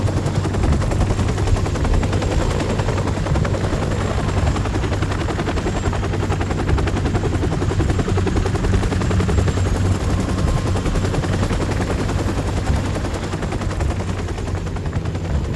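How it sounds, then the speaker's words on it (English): Call of Duty 4 game helicopter roars steadily overhead throughout, with a dense, continuous hail of machine-gun fire layered beneath the rotor thrum, loud and close the whole time. "The heli's moving away."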